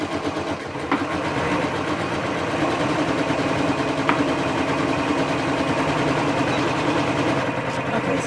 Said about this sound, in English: we're going to sew that with a 1/4 inch seam allowance